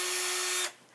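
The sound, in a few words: power drill running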